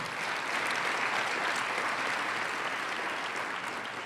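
Steady, dense applause from a large crowd at a political inauguration ceremony, even and sustained from start to finish without speech.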